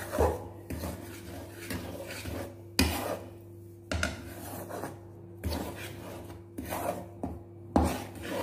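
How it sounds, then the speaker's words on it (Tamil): Ghee being stirred into roasted gram flour in a pan while making soft Mysore pak, a soft rasping scrape repeating in uneven strokes, with several louder scrapes standing out, close and steady with no talking. "நாம் இதில் கொஞ்சம் நெய்யை ஊற்றி கரைச்சி வச்சிடலாம்"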